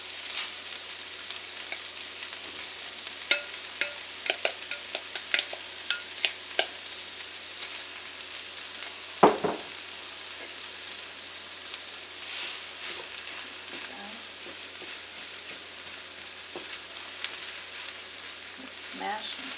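Cooked rice is mashed and stirred in a frying pan for arroz con pollo: a steady sizzle runs throughout, punctuated by sharp utensil taps and scrapes, including one heavy knock midway.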